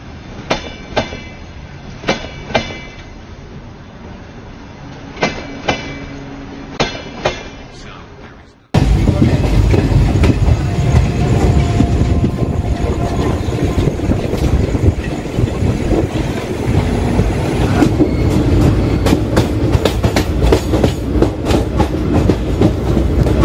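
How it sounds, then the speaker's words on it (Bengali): Darjeeling Mail train departing Sealdah station, recorded on board: a few faint clacks, then a loud steady rumble of wheels on rails with rhythmic clickety-clack and a brief squeal, close and continuous. "ট্রেনে ওঠার কিছুক্ষণ পরে আমাদের ট্রেন শিয়ালদা স্টেশনকে বিদায় জানিয়ে এগিয়ে"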